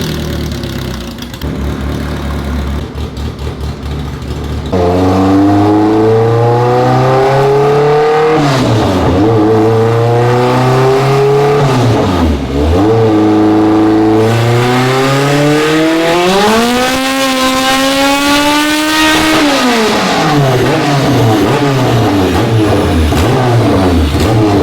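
A 450whp Honda on a 200 shot of nitrous idles roughly, then screams through hard revs with quick dips between gear changes before one long climbing pull, loud and close throughout.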